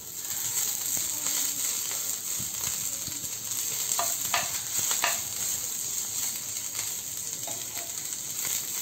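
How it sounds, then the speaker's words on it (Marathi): Ginger, coriander and garlic frying in oil for a Goan-style mixed vegetable dish, a steady soft sizzle with occasional light stirring scrapes throughout, no talking. "आलं, कोथिंबीर आणि लसूण हा देखील छान तेलामध्ये परतून घेऊया"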